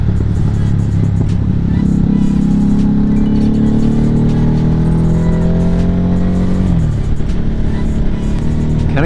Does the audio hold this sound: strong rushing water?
no